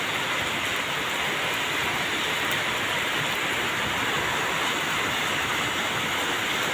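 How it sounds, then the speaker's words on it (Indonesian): Steady, dense rainfall in Surabaya on a cloudy day, a continuous hiss close by with no breaks. "Alhamdulillah lagi hujan"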